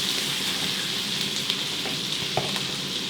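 Apples tipped into melted butter and granulated sugar sizzle in a pan over high heat, a steady close frying hiss with a couple of small pops and no voices.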